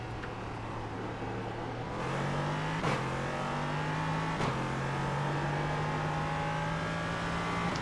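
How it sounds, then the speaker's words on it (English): An iRacing race car's engine in the rain at Suzuka drones and revs, the pitch stuttering and dipping as traction control cuts the power, loud and steady with no talking. "You can hear fighting the traction control there, trying to get the power down."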